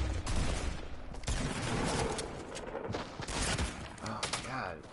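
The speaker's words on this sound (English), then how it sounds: "shooting at me at all angles." Rapid bursts of gunfire crackle in Fortnite, dense overlapping shots from several directions over about five seconds, close and loud throughout, with voices talking underneath.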